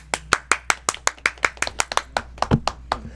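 Sharp, steady clapping from a crowd in honor of William Joseph, about fifteen distinct claps in an even rhythm, close and clear with no talk over it.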